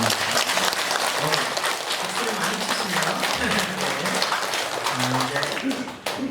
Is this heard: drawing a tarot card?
no